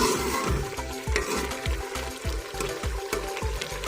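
Chicken jalfrezi with tomatoes cooking on high flame in a pan: loud, steady sizzling and frying with repeated rhythmic scraping strokes of a spoon stirring, close up and alone.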